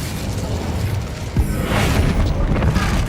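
A fiery spell blast from Hogwarts Legacy hits with a sharp boom about halfway through, then rolls into a sustained roaring, crackling burst that fills the rest of the moment, loud and close.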